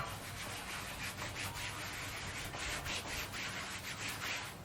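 Wax buffed onto a rusty metal lawn chair with steady back-and-forth rubbing strokes, a close, continuous hissing scrub with no talk.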